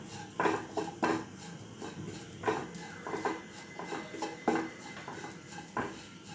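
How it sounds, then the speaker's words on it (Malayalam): Coconut, shallots and garlic roasting in a pan for a Kerala prawn curry, stirred with a utensil that scrapes and clinks against the metal in irregular bursts, close and moderately loud, with a faint sizzle underneath. "നല്ലോണം ഒന്ന് വറുത്തെടുക്കണം നമുക്ക്."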